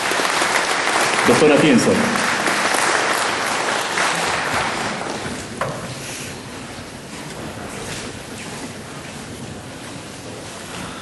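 Broad applause from a law association audience at a ceremony honoring jurist Manuel Atienza, loud at first and fading slightly, with a voice speaking over it.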